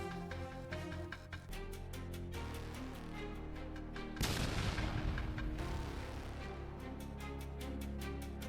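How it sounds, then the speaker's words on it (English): A loud burst from an FPV drone explosion erupts midway through, rumbling for about a second amid a pulsing, rhythmic music track. "The explosion left no chance for survival"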